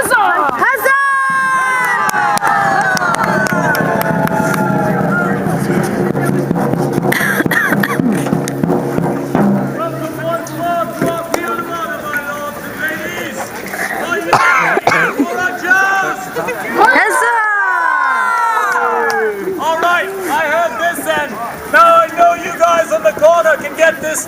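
A crowd at a medieval jousting show cheers and shouts loudly and repeatedly, with children's voices mixed in, in bursts rising and falling across the scene, while a presenter talks over the crowd at times.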